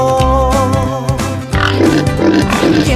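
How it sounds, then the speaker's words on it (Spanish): A pig grunts and squeals in steady, close, continuous calls with no pauses, from a recording of farm animal sounds. "Vamos a escuchar cómo hace el cerdo."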